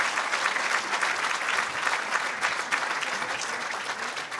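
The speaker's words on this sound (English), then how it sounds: "How about a round of applause?" Audience applauding Terry Duffy, chairman of Chicago Mercantile Exchange Holdings, at a financial event; steady, dense clapping from a crowd sustained throughout at even loudness.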